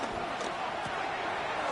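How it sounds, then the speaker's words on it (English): A football crowd roars at Arrowhead Stadium during a game as a continuous, loud, wash-like wall of noise with no clear breaks. "The Arrowhead crowd in full roar."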